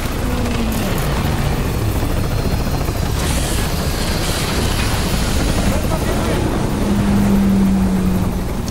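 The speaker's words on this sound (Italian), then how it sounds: "C'è un elicottero." A helicopter roars steadily in Cyberpunk 2077: Phantom Liberty, a loud, continuous rotor and engine drone that fills the scene and swells slightly near the end.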